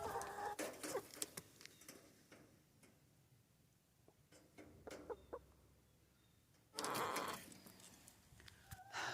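Backyard chickens clucking faintly in a winter garden, sparse quiet clucks that swell into a louder burst of clucking toward the end.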